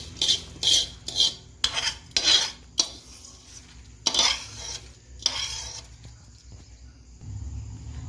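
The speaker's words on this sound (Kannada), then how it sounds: "ಅದೊಂದು ಚೂರು ಆರಿದ್ಮೇಲೆ ಮಿಕ್ಸ್ ಮಾಡ್ಕೊಳ್ಳೋಣ." A spoon scrapes and clinks in a bowl in quick bursts, stirring a mustard-and-cumin tempering into ground dal powder, then falls quiet to a faint hum of the room.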